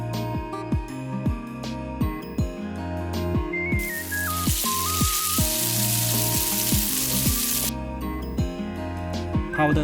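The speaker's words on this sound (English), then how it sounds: "Stir fry all the veggies a few minutes." Vegetables stir-fried in a pan give off a loud, steady sizzling hiss for several seconds, set under bright, rhythmic plucked music.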